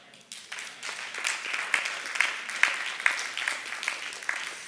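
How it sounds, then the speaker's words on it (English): An audience bursts into applause, starting quietly, then swelling into loud, rapid clapping with a few sharp claps standing out, heard close and alone without any talk. "Clap it up for that."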